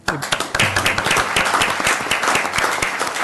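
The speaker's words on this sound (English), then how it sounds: "A round of applause." Applause from the audience at a county board of supervisors regular meeting, a dense burst of many hands clapping that starts abruptly and holds steady and fairly loud throughout.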